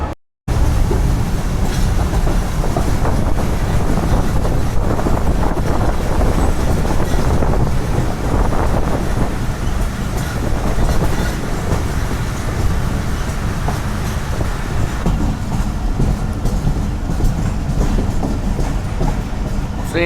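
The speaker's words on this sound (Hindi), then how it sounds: "ट्रेन लाहौर स्टेशन से निकलकर शाहदरा बाग जंक्शन, जो कि लाहौर का ही हिस्सा है" Awami Express passenger train rolling on rails between Lahore station and Shahdara Bagh junction, a loud continuous rumble with wind buffeting and rhythmic clatter from the carriages, heard from on board for the whole stretch.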